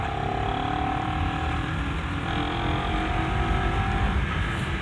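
A Honda CBR250RR motorcycle on a test ride, its engine humming steadily under throttle in fourth gear, heard close with constant rushing wind noise around it.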